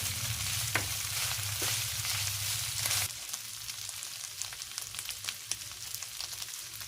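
Ground pork stir-frying in a pan for ginisang giniling with chicharo, a steady close sizzle with scraping stirs and small clacks as lumps are broken apart, a low hum fading after the first few seconds.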